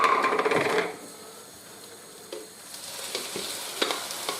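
Blended tomatoes go into a pan of frying onions, a loud hiss at first that settles into a quieter sizzle with a few light stirring knocks and scrapes, no talking.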